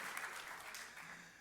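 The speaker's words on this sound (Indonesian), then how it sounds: "Tepuk tangan yang meriah untuk kemuliaan anak Tuhan." Church congregation applauding, a brief, faint burst of steady clapping heard from a distance.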